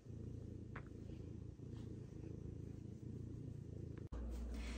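A cat purrs steadily up close, a continuous low rumbling with a regular rhythm, followed by a brief soft thump near the end.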